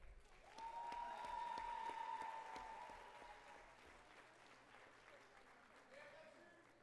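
Applause for a graduating class of 2025 at a pre-commencement ceremony, a sustained round of clapping from a crowd in a hall that swells and then gradually fades, with a voice speaking over it.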